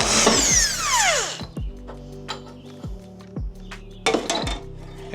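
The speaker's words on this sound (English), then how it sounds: "Grab your trusty impact at 22, set it to" An impact wrench backs a strut bolt out of a MK2 VR6 car in a short, loud, rattling burst that winds down, followed by scattered metallic clinks and knocks.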